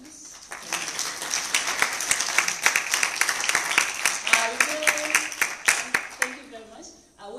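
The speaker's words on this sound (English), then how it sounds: "I'd like us to give a round of applause to Professor Chebanne" A university lecture audience applauds a professor after his talk on the San people of Botswana: scattered claps swell into a moderate round, then thin out, with some voice and other sounds mixed in near the end.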